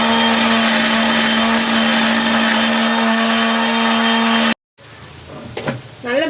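A mixer grinder blending 200 grams of ginger and garlic into a paste: a steady, loud motor whine runs for about four and a half seconds, then cuts out abruptly, and a voice comes in afterward.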